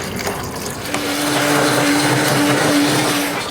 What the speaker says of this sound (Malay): Saya blend yang ini aja.